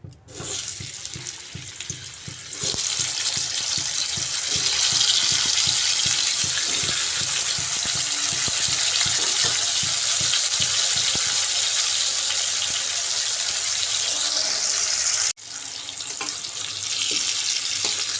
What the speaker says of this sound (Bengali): সর্ষের তেলের মধ্যেই লবণ আর হলুদ মাখিয়ে রাখা আলুটাকে লাল লাল করে ভেজে নিচ্ছি